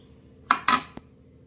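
Metal utensils clink against a pan or dish while cooked sev tamatar is served, three quick close scraping clanks within about half a second against a quiet background.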